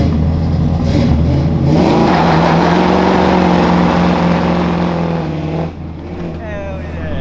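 A Toyota AE86 engine idling near 1,000 rpm after being warmed up: a loud, close, throbbing exhaust drone that briefly rises in pitch and then settles, with voices talking over it.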